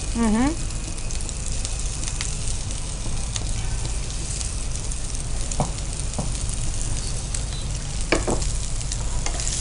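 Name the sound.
fish with turmeric frying in a pan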